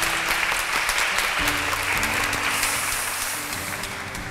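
Lecture audience applauding at the close of a talk on North Korea's economy, a full burst of clapping that continues steadily and tapers a little at the end, with some low voices beneath.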